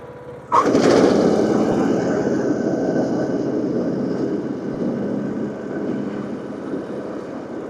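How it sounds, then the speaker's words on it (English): A lawnmower's new blades engage at low RPM, starting with a sudden thump, then settling into a steady, loud engine-and-blade drone that fades slightly over several seconds. "we're going to engage the blades now at low RPM"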